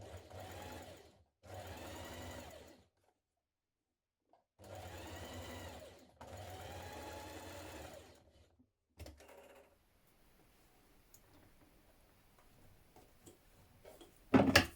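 A sewing machine stitches the centre back seam of a Harriet jacket with a 1 cm seam allowance, running in four close, steady bursts separated by short pauses, with no voices.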